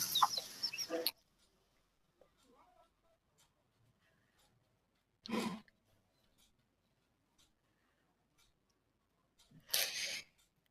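A top-quality long-tailed, parrot-beaked rooster at a poultry farm gives three short, loud calls close by, each separated by several seconds of near silence.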